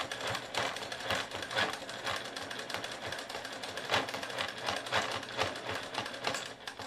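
A sewing machine stitches in the ditch along a ruler, its needle giving a fast steady mechanical clatter close up, running continuously with slight speed changes and no talking.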